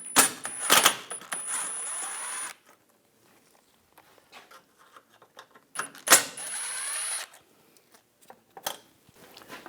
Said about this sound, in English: Using a T20 socket, take these screws out in the back.